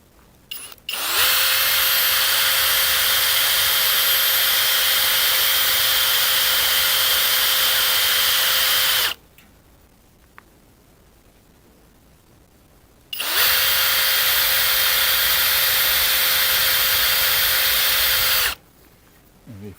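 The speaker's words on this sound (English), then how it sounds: "I have the drill set up with a 3/16 drill bit for those 3/16 rivets" Power drill fitted with a 3/16 bit drilling out 3/16 rivets on a mini excavator rear cover latch: two loud, steady whining bursts of several seconds each, separated by a pause of near silence.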